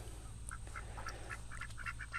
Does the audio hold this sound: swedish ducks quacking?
yes